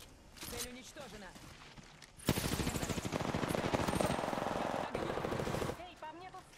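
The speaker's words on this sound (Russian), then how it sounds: "Эй, по мне тут стреляют" Sustained automatic gunfire in the Apex Legends video game, a rapid, loud burst of rhythmic shots running for several seconds after a brief lead-in, with game voices speaking before and after.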